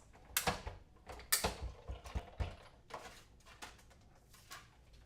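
Die cut machine cutting card stock for fall-themed cards, a run of close mechanical clunks and ratcheting thumps, loud at first then lighter and irregular, with no voices.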